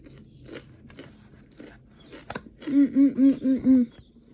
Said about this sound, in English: Sorry about that. I take forever to chew.